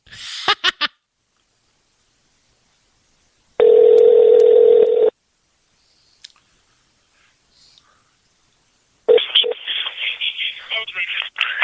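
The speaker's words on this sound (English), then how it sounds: "Hey DJ, your phone's ringing" An electronic phone ring sounds in a loud steady burst, isolated between stretches of silence, with scattered voices and noises before and after.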